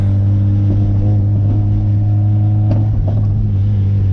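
A 1991 Honda Civic sedan, lowered on new coilovers, drives over a rough road. A loud, steady low drone of engine and road noise fills the cabin, with faint intermittent rattles rising above it.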